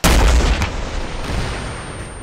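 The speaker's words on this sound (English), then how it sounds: "I shot the 203 to confirm the distance." A 203 grenade launcher in ArmA 3 fires one loud, heavy boom that starts abruptly and rolls off into a long, fading rumble.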